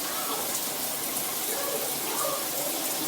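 Water streams from an 8-inch BRIGHT SHOWERS rain shower head, a constant dense hiss of falling spray that holds steady and close throughout, with no pauses.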